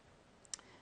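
Single quiet computer mouse click over faint background hiss, brief and close.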